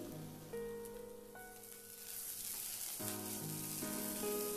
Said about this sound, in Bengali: আমি এবার ভালো করে কষিয়ে নেব।